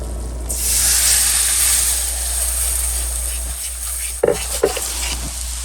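A cup of milk poured into a hot roux in a pan, a loud steady hissing sizzle that slowly eases, followed by a couple of quick clinks near the end.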